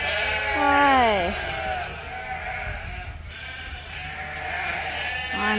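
A Dorset ewe on a sheep farm bleats loudly and close, one long wavering call, then a second starting at the end, over steady barn background noise.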